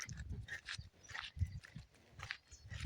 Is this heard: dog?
yes